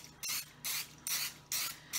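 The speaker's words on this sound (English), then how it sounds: "I'm going to flip them over and spray them." Olive oil is misted from a spray bottle onto egg rolls being made for an air fryer, five short, close hissing bursts in a steady rhythm with brief pauses between them and no voices.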